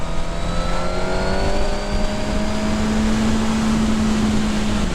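A Suzuki GSX-R1000R 2019 motorcycle engine howls loud and continuous, its pitch climbing smoothly as it revs through the gears, with wind rush underneath and no talking.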